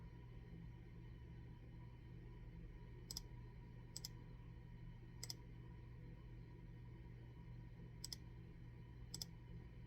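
A computer mouse clicks as images are selected, five crisp, sparse clicks spaced a second or more apart over a low, quiet room hum.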